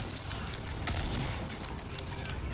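Gunfire in the co-op dinosaur shooter Second Extinction, a dense run of rapid shots crackling steadily through the whole stretch at close range, with no speech over it.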